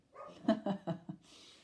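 A dog barks a few times in quick succession indoors, moderately close, short sharp yelps spaced about a quarter second apart, followed by a soft hiss.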